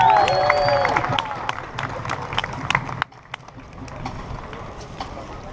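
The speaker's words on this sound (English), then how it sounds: "Let's give her a round of applause." Outdoor audience at the Magic Kingdom flag retreat ceremony at Walt Disney World claps for Isabella, scattered claps and cheers that fade after about three seconds into quieter crowd murmur.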